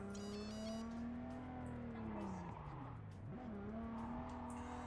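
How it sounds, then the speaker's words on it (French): Engine of a car driven in the video game Cyberpunk 2077, a steady droning hum that dips briefly and swells again as the vehicle moves, with faint background game sounds throughout. "Comment on conduit ce putain de véhicule?"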